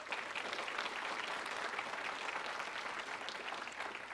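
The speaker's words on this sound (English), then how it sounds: "give Char a round of applause" An audience at a county State of the County address claps in steady, dense applause that holds evenly at a fair distance throughout.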